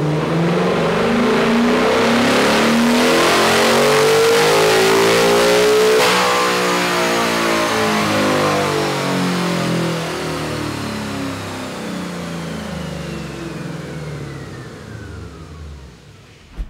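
A 2024 Ford Mustang GT V8 fitted with a K&N cold air intake, run on a chassis dyno: a loud single pull with the engine climbing steadily in pitch, then easing off and winding down as the rollers coast.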